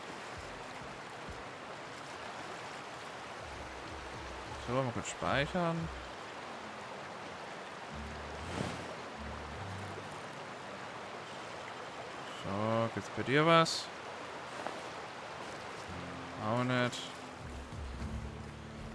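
A rushing waterfall in the video game The Outer Worlds, a steady broadband wash running the whole time beneath several short bursts of conversational speech.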